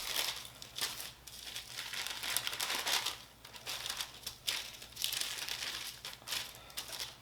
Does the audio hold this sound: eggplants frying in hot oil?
no